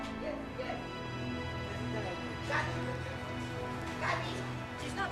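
A rescue dog at a house barks and whimpers intermittently at moderate distance, short yelps and whines rising over a steady hissing background, with faint talk mixed in.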